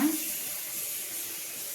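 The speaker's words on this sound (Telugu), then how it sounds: "మా పిల్లలకే స్టవ్ నీళ్ళు పెట్టడానికి నీళ్ళు పడుతున్నా" Water running from a tap into a vessel being filled for the stove, a steady close rush of flowing water that holds evenly through the brief moment.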